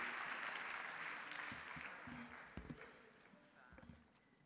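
Faint crowd applause welcoming a school marching band at the MAI Championship 2019 band contest, a broad wash of clapping that fades gradually, with a few louder thumps near the end.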